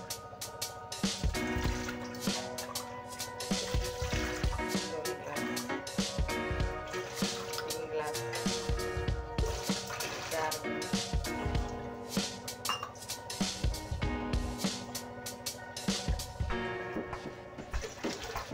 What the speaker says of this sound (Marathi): चला पाणी टाकून घेऊ.